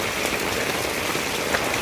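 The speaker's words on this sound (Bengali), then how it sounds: "ভীষণভাবে বৃষ্টি হচ্ছে" Heavy rain pours down on a waterlogged town street in Raghunatganj, a dense, even hiss of drops striking water and surfaces with no break.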